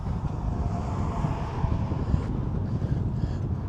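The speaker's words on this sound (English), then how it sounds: "It is quite windy up here too." Steady wind buffets the microphone on the Ringling Causeway bridge with a low, continuous rumble, while a faint hum of traffic runs underneath.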